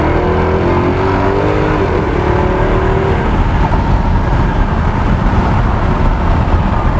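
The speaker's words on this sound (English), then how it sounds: "give you an exhaust sound" A loud, close Jaguar XKR Coupe engine revving up and accelerating, its rising pitch giving way to a steady, rough roar and road rumble.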